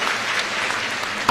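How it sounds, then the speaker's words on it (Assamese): An audience at a public gathering breaks into a short, even burst of dense hand clapping, close and steady, with no talking over it. "এটা দীঘলীয়াকৈ হাত চাপৰি বজাই দিয়ক"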